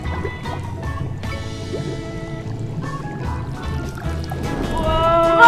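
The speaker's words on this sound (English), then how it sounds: "if I add more water, I think it's going to bubble up even more" A homemade baking soda volcano fizzes and bubbles up after water is poured in, a steady wet gurgling under the excited exclamations of children and an adult.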